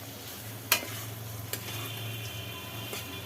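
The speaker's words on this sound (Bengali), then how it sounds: "সর্ষের তেল ছড়িয়ে দিলে হ্যাঁ, মোটামুটি কমপ্লিট তাই তো হ্যাঁ, একটু ভাজা ভাজা হবে" Food frying in mustard oil during home cooking of a Bengali dish, with a quiet steady sizzle and a few faint clicks of stirring, no voices.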